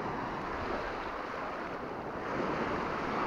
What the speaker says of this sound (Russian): Такой вот у них пляж, шезлонги расставлены.